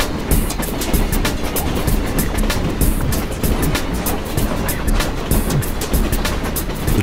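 The Darjeeling Himalayan toy train rolls along its rails with a steady, dense rumble and repeated clicking, close and continuous throughout.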